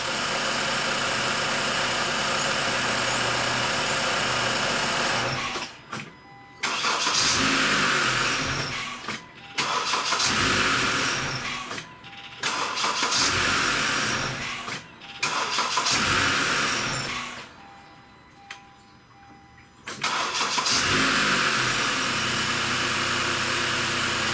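Honda Accord engine, 2013-2017 model after an engine swap with a suspected ground fault, cranking in several loud repeated bursts separated by short pauses, then catching and running, close to the mic.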